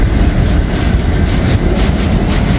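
A freight train rolls past close by, slowing down, with a continuous dense rumble of wheels on rail and faint rhythmic clatter, loud and steady throughout with no voices.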